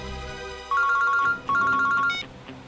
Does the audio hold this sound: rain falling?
no